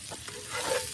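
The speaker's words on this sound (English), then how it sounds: "Got our sausage sizzling nice and good." Andouille sausage sizzles in a warmed skillet over a campfire, a steady close frying hiss with soft stirring scrapes that swells louder in the last half second.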